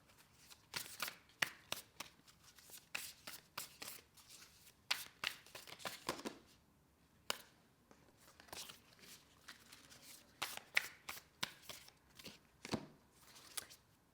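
A deck of oracle cards is handled and shuffled at close range, producing quiet, irregular bursts of riffling and snapping card edges separated by short pauses.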